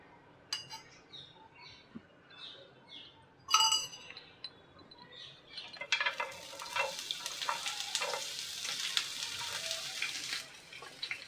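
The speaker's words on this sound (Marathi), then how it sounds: "आता आपण कांदा भाजून घेऊया." Sliced onion goes into hot oil in a pan for a Marathi cashew curry. A few spoon clinks and stirs come first, then a loud, steady sizzle of frying that carries on close by to the end, with no talking.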